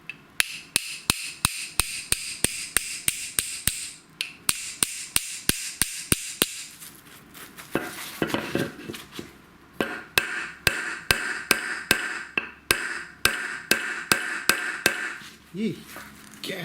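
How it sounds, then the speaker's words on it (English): A small hammer raps a rusty 7-inch Footprint wrench in a long run of sharp, ringing metallic strikes at an irregular rhythm, close up, with occasional speech between the blows. "Let's try a little hammer on it."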